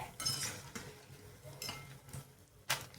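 Small wheat flour and moong dal snacks deep-fry in oil over a medium flame, a faint bubbling crackle broken by several sharp scrapes and clinks of a utensil against the pan, all quiet and close.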